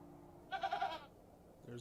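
Goat Eunice bleating in the game Hob's Barrow: a single wavering, nasal bleat of about half a second, clear and fairly close, followed by a brief murmur of voice at the end.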